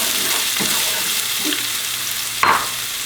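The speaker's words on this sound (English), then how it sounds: "saute the onion a little." Chopped onion sautés in hot olive oil in a pan, a steady close sizzle and crackle with a brief stirring scrape near the end.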